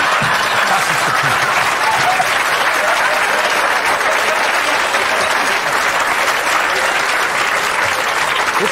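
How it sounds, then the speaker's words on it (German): Loud, dense applause from a theatre audience at a cabaret show, sustained clapping filling the room without pause. "Jetzt hören Sie auf mit dem Klatschen, wirklich."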